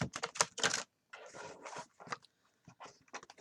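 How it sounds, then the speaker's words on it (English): Tarot cards being shuffled close up in quick bursts of crisp riffling and flicking, separated by brief pauses. "apparently I'm going to shuffle it a little bit more"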